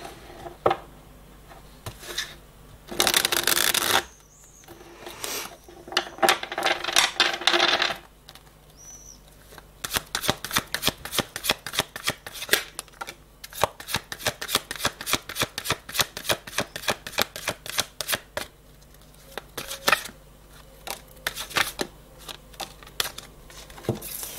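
Playing cards are shuffled for a card reading, a brisk riffle and bridge of the deck, then a long run of quick, close, rhythmic flicks and taps of card against card, with nobody speaking.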